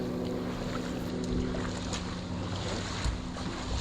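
A motorboat river bus runs along a jungle river in Costa Rica, its engine a steady low drone under broad water and wind noise, with a few faint knocks and no talk.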